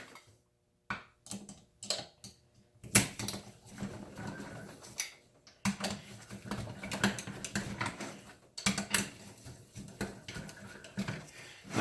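A manual speed driver turns screws while a 1970 C4 automatic transmission is assembled, giving close, irregular bursts of small ticking and ratcheting clicks with brief pauses and light handling noise between.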